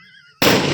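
A single firecracker bursts loudly and close during Diwali celebrations, a sudden sharp blast followed by a dense crackling wash that sustains to the end, after a quiet stretch with faint tonal background sounds.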